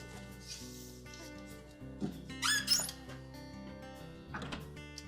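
A glass shelf slides forward and out of a Frigidaire refrigerator, giving a few close squeaks and scraping rubs over a low steady hum, with no talking.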